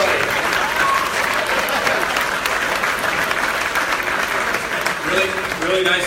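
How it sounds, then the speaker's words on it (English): A dinner crowd at an award ceremony applauds steadily and loudly for the whole stretch, a dense wash of many hands clapping with scattered voices mixed in. "How about a big round of applause?"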